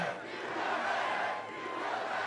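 A massive crowd at a Wisconsin rally in Janesville cheers and shouts in a dense, continuous roar, loud and sustained throughout.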